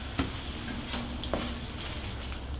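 Low-fat leftover creme fraiche being stirred into a hot frying pan, with a soft steady sizzle and a few light clicks of the spoon against the pan, close and quiet.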